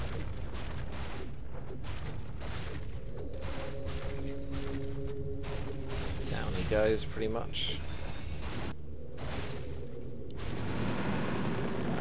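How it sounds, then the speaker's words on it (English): Explosions in the Warcraft 3 strategy game, a dense run of booming bursts and crackling blasts rolling on through the whole stretch, with a player talking over them. "That was a lot of explosions."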